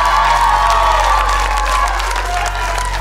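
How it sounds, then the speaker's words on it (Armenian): Studio audience at an Armenian TV talent show applauding the contestants, a steady continuous wash of clapping and crowd noise with a few cheers, loud and sustained throughout. "Յուրաքանչյուրը ծափարում ենք ձեզ"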